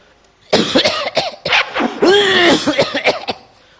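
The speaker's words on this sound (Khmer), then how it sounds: "លោកតែមានអាការៈក្អក" A person coughs in a rapid series of harsh, close bursts, loud and with no talking around it.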